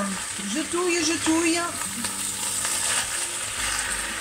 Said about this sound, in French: je jette mes épinards. Alors ça va cuire très rapidement. Et je touille.